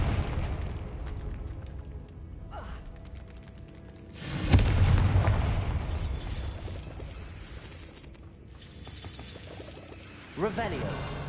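A Confringo spell detonates in a Harry Potter video game, one loud booming blast that swells and rumbles for several seconds amid layered game effects and music, followed by a smaller burst near the end.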